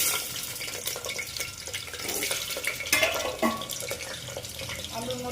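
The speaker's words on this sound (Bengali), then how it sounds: "আলুগুলিকে ভেজে দেবো" Potatoes frying in hot oil with bay leaves in a pan, a steady wet crackle with scattered clinks and scrapes of a utensil against the metal, close and fairly loud throughout.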